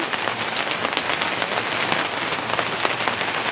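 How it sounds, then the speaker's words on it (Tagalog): Steady rain pours down, a dense broadband hiss with scattered drop patter, constant and fairly close throughout. "Ayan nga, maulan na naman."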